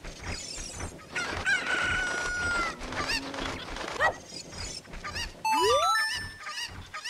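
Chickens in Zelda Ocarina of Time cluck and squawk, then a rooster crows with a rising call near the end, alongside bright chiming game effects.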